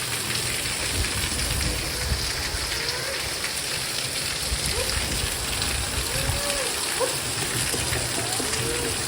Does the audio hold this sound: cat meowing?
no